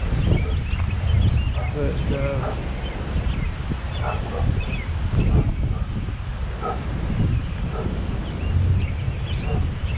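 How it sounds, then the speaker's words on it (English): Wind gusts across an outdoor garden in early May, a constant rumbling buffet on the microphone with rustling leaves, distant birds and a dog barking, while someone talks over it. "And I hope this wind is not too big of a problem."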